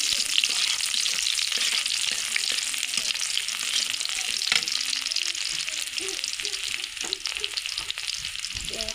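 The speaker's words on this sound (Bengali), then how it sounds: "এখন আমরা তেল দিয়ে দিয়েছি, দিয়ে এখন রসুন দিয়ে দেবো" Garlic sizzling in hot oil for a Malabar spinach stir-fry, a steady close crackling hiss throughout with occasional light stirring knocks.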